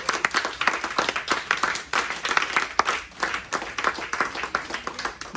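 A church congregation clapping in acclaim during worship, dense steady applause with many hands striking in a brisk rhythm, loud and close throughout with no clear speech.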